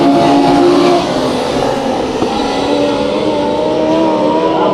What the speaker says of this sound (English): We got the NMRA Midgets on the racetrack right now for their heat races.